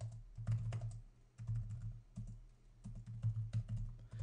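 Fast, steady typing on a computer keyboard while access lists are entered into a router configuration, close clattering keystrokes in continuous runs with brief pauses, no talk.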